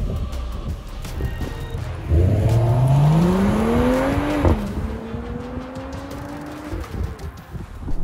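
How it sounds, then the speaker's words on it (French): A 435 hp Mercedes-AMG GLE 53 Coupé SUV with its exhaust flaps open in sport mode accelerates hard, the engine note climbing through two long pulls with a brief gear-change dip, loud and close. "passant du mode confort au mode sport et même sport plus pour ouvrir les clapets et libérer complètement l'échappement"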